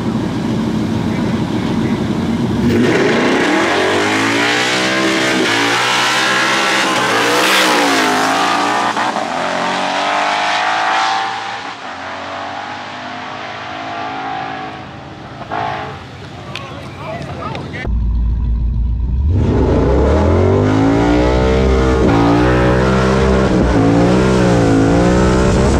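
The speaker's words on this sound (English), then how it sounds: "Turbo Jeep versus Mustang." A turbocharged Jeep and a Mustang race on a street, engines roaring loudly and close with rising revs through the gears, a brief dip midway, then another hard acceleration, while people shout and talk over it.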